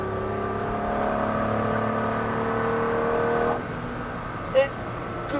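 The engine of a Ferrari 250 SWB restomod by GTO Engineering hums steadily at close range, then drops away abruptly, followed by a brief blip of revs, as with heel-and-toe downshifts.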